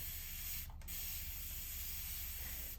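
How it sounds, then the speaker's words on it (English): A close, steady hiss of water spraying from a spray bottle onto a paper towel, broken by a brief gap partway through, with no voices. "spray it with just water"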